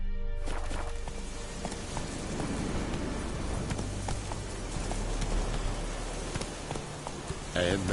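Horse hooves clop in a steady, regular rhythm in The Witcher 3, mid-distance and fairly soft, under a constant hiss of ambient noise, with a voice briefly heard.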